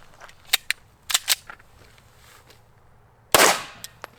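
A pistol handled during a clearing drill gives a few sharp, close mechanical clicks, then a louder metallic clack and a couple of small taps near the end, with quiet pauses between.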